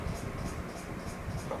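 Pen writing on paper while working a compound interest calculation, soft continuous scratchy strokes, close and fairly quiet.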